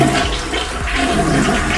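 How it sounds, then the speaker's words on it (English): An automatic, sensor-triggered toilet flushes with a loud, continuous rush of water that stays steady from start to finish, close by and with no one talking over it. "the automatic flush is activated"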